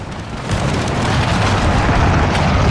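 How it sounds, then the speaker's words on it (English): Massed artillery fires during a huge Napoleonic battle in the strategy game Napoleon: Total War. The cannon blasts blur into a loud, continuous rumbling roar that swells after the first half-second and stays heavy and sustained. "Ooh, some nice artillery shots."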